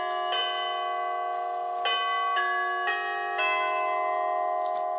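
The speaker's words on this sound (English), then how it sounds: "I just done a simple dry test on it by pressing this door button right in here." A doorbell chime, triggered by pressing a Nest Hello doorbell button, rings out in a sequence of clear, sustained bell tones, each strike overlapping the last, loud and close in a quiet room.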